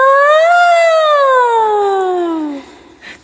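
A single voice imitates a siren, one long clear wail that slides downward in pitch over about two and a half seconds, loud and close, followed by a brief quiet rustle.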